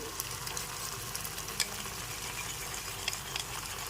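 Tomato and capsicum frying with spices in a pan for a vegetarian Bengali dahi aloo dum, with sour curd being added; a steady, close sizzle with a few small pops and stirring clicks throughout.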